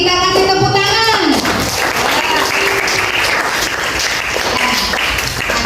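A classroom of students breaks into dense, loud applause that continues steadily for several seconds, following a brief sung or spoken tone at the start.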